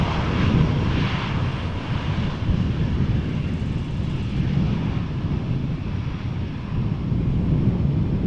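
An easyJet airliner arriving to land at Amsterdam Schiphol in crosswind conditions gives off a broad, steady engine roar, loud and close throughout, mixed with wind buffeting the microphone.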